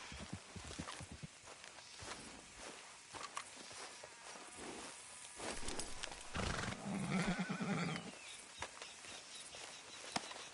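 Horse hooves clip-clop at a walking pace, fairly close but quiet, with a brief whinny in the middle and faint insect buzz in the background.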